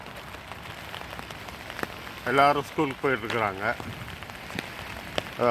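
Steady rain pattering outside a school in Canada on a cold morning around two or three degrees, a constant hiss beneath someone speaking briefly.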